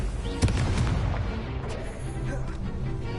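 Confringo blast spell from the Hogwarts Legacy video game, a dense burst of fiery booms and crackling impacts with a sharp hit near the start, sustained loud rumble throughout amid other battle effects.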